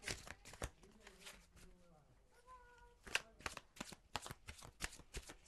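Tarot cards are shuffled up close, with quick riffling flicks and soft slaps in bursts. Someone speaks briefly in the middle of the shuffling.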